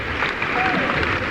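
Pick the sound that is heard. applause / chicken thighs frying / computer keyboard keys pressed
applause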